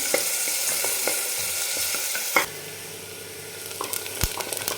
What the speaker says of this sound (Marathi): तर आपल्याला कांदा छान सोनेरी कलरवर परतून घ्यायचं तर आपण कांदा परतून घेऊ